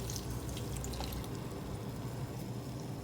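Water pouring steadily into a cooking pot for a backyard pumpkin dish with onions, a continuous close splashing pour that fills the whole moment with no talk.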